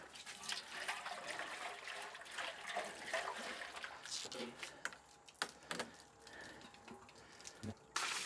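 Water splashes and trickles while a container is rinsed out outdoors, a faint, uneven run of splashing and dribbling with a few sharp knocks near the end.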